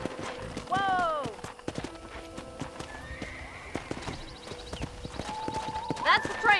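Horse hooves clip-clop while a horse whinnies sharply several times in the Western video game Red Dead Redemption, set by a ranch corral, with game voices talking under the animal sounds.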